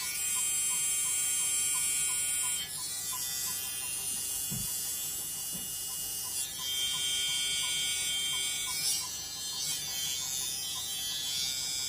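A vintage T9 electric hair trimmer runs with a steady high-pitched buzzing whine, close and continuous for the whole stretch, with a few small shifts in tone and no talking.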